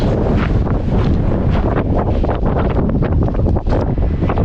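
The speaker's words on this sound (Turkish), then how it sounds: "Yalnız burası acayip esiyormuş he." Strong wind in eastern Iceland buffets the microphone with a continuous loud roar and rumble that gusts unevenly throughout, with no other sound clearly standing out.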